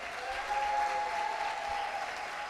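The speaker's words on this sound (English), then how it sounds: "let's give a rumble and a big round of applause for the Power of Voice awardee" Audience applause at the Power of Voice 2019 award presentation for honoree Beth Hassett, a steady, moderately distant wash of clapping that holds evenly throughout with a faint tonal hum beneath.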